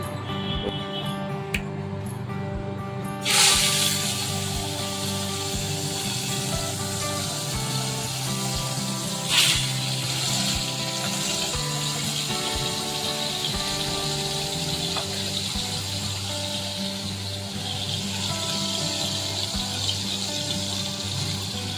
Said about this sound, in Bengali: তেল গরম হয়ে গেছে এবার মাছগুলো ভেজে নেব খুব সুন্দর করে